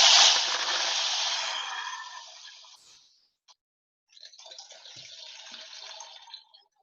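A rushing splash of water as a figure lands in a river, fading over a couple of seconds, then a softer burst of trickling and sloshing water after a brief silence.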